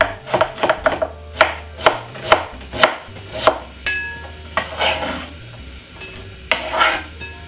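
A knife finely chopping white onion on a board: a quick run of crisp, rhythmic chops, then a pause with light scraping and clinking before a few more cuts, all close and clear with no talking.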